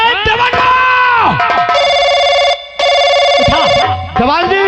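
A telephone bell rings in a Hindi stage drama, a steady electronic ring broken by one short pause, loud over music and voices talking around it.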